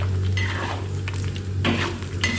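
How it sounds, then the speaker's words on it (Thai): Pork rinds with fat still attached fry in oil in a pan, giving a steady sizzle dotted with small crackles and pops, plus the scrape of stirring. "เราจะได้ยินเสียง หนังหมูเขาเริ่มแตกแล้วนะครับ ดังปอแปะปอแปะแล้วนะครับ"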